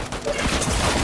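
Dense, rumbling barrage of launcher fire and blasts from Fortnite, loud and continuous through the short moment with no talk over it.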